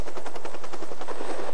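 A Canadian Forces military helicopter runs with its rotor turning, giving a loud, steady, rapid thudding beat that fills the whole clip with no pause.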